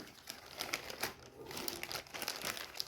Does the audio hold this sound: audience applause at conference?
no